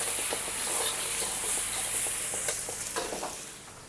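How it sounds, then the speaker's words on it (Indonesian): An egg fries in a pan while nasi goreng is being made, giving a steady, close sizzle and hiss with a few scattered pops and a faint scrape, fading slightly at the end. "Kita pecah sebiji telur. Kita goreng dulu."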